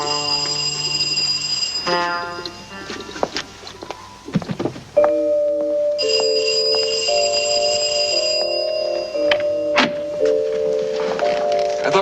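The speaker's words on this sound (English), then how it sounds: "I thought for a minute your bell didn't work." A doorbell at a house door, a series of ringing electronic chime tones in sustained layered notes, loud and close, with brief clattering between sequences and no speech.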